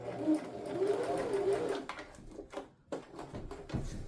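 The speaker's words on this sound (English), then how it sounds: "I'm going to sew off the edge" A sewing machine stitches along the fraying edge of a fabric robe piece, running in a steady, close whirring hum for about two seconds before stopping, followed by a few soft clunks and handling noises.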